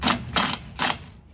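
Three quick bursts of ratcheting from a ratchet with a 9/16 socket, tightening threaded bolts to press off a brake drum on a 2006 Chevrolet Silverado; close and clear, no talking.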